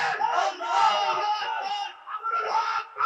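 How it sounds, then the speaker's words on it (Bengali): A rally crowd shouts a slogan in unison, a dense mass of voices rising and falling in loud waves, with a short lull near the end before the chant swells again. "আরেকটা খামোশ খামোশ স্লোগান দিয়ে"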